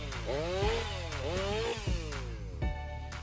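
A Stihl MS 500i fuel-injected chainsaw cutting large logs revs up and down repeatedly with a loud, buzzing engine whine that rises and falls in several short bursts, close by.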